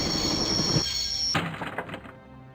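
A train in the point-and-click game Broken Sword: Shadow of the Templars rumbles with a high whine, then stops with a sharp metallic clunk followed by fading rattles.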